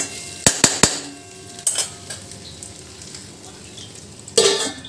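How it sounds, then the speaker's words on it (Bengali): Pointed gourd and rice stirred in a frying pan: a quick trio of sharp metal scrapes and clinks, then scattered spoon knocks over a faint background sizzle, with one louder scraping stir near the end. "এবার পটল আর চালটা একসাথে একটু নাড়িয়ে নিয়ে জল দিয়ে দেবো"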